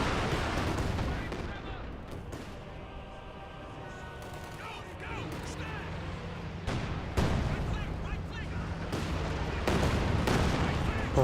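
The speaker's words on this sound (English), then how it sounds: "Great hit there by the Katyusha." Katyusha rocket artillery strikes in a Company of Heroes 2 battle, heavy booming impacts and rumbling explosions amid ongoing gunfire, loud and layered, with a commentator speaking over the action.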